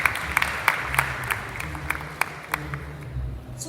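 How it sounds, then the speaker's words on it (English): An audience at a Philippine Blockchain Week conference gives a round of applause, steady dense clapping with a few sharper individual claps standing out, continuous and moderately loud. "a round of applause for Donald."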